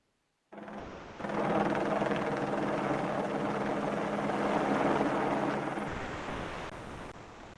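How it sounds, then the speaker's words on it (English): A helicopter hovers in a radio-drama sound effect for a Star Trek script reading, a loud, steady rotor roar with a rapid chopping pulse that holds for several seconds before easing down, with no voices over it. "Gillian arrives in a hurry to see the Plexicorp helicopter hovering with a sheet of transparent aluminum suspended below it"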